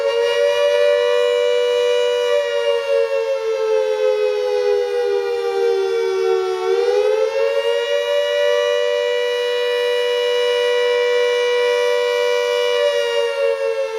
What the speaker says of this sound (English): the wail of the World War II siren is unmistakable